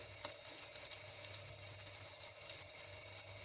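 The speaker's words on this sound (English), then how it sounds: "So in total, I think 10 minutes of frying would be sufficient." Salmon fish cakes sizzle and spit quietly in a pan, a soft continuous crackle with occasional louder pops.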